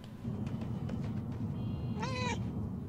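A cat in the video game Murdered: Soul Suspect gives a single clear meow, close and distinct, over a steady low background hum.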